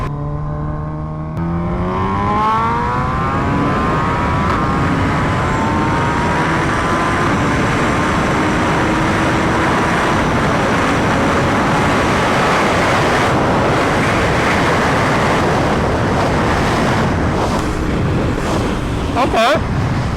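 A Suzuki Hayabusa motorcycle pulls hard under full throttle, its engine note climbing steadily in pitch as it accelerates, loud and close against a rush of wind noise for the whole stretch, with a brief drop near the end.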